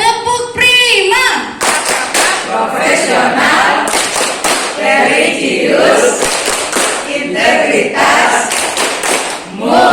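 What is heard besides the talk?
group rhythmic clapping chant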